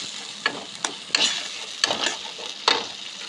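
Whole garam masala, a few dried red chilies and bay leaves fry in hot oil in a pan while being stirred, giving a steady sizzle with several sharp scraping spikes of the spoon against the pan.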